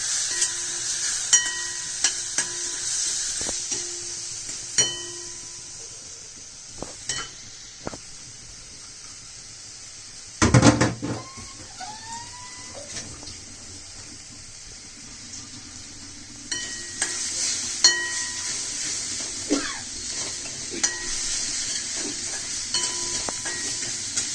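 A spoon scrapes and clinks in a pan as turmeric and a little oil are sautéed for besan, over a steady sizzle, with occasional louder clatters and a brief burst of noise midway.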